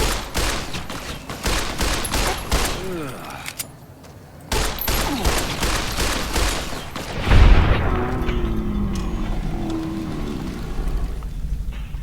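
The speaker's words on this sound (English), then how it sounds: "the guy is actually shooting with a plasma pistol, not just a laser." Plasma pistol fire in the Fallout video game, heard as a rapid loud volley of crackling shots with some ringing tones, then a quieter stretch with a low rumbling impact and softer tonal sounds.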